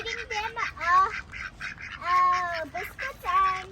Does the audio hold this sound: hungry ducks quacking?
yes